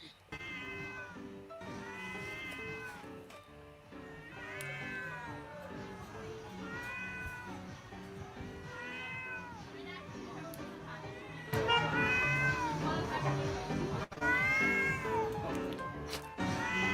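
Repeated cat meows and drawn-out yowls, loud and close, coming in irregular bursts, growing more intense toward the end.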